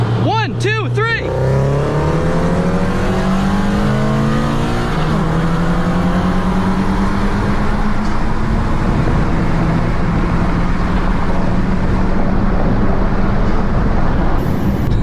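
A 10th-generation Honda Civic Si accelerates hard, its engine note climbing steadily through the revs, loud and close, from a short burst at the start through a long sustained pull.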